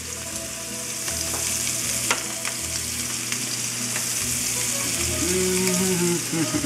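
Sausages browning in a frying pan sizzle continuously and up close, with occasional scraping and clatter of a utensil against the pan.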